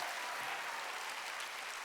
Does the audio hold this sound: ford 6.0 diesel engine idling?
no